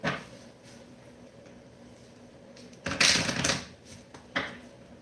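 Tarot cards being shuffled, with a couple of brief bursts of riffling and snapping between quieter handling noises, close by.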